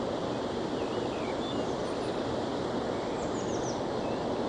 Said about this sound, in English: You can hear the weir in the background.